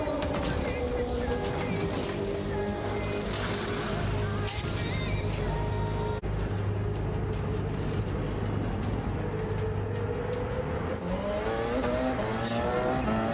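A Toyota race car engine in Gran Turismo 7, at the Le Mans 24 Hour race, roars loudly past with a rising and falling whine over other car noise and tire squeal.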